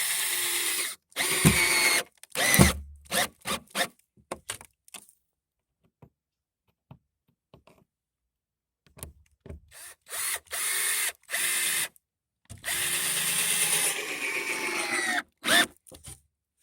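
A Black & Decker 20-volt cordless drill whirs into 2x4 wood in several bursts, revving up and stopping, with a long quiet pause in the middle and a longer sustained run near the end.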